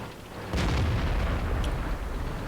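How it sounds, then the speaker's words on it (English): Tank cannon shot in the video game World of Tanks on the Karelia map, a single sudden heavy boom that strikes near and then rumbles away, with no talk. "the shot comes in and narrowly misses me"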